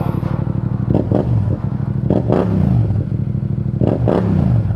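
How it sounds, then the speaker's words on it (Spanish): A Yamaha MT-07 or XSR700 motorcycle engine with an Akrapovic full-system exhaust idles loud and close, a throbbing rumble broken by a few quick throttle blips, with no one talking over it. "esta moto tiene un full system Krapovic, por eso es que esta sí suena"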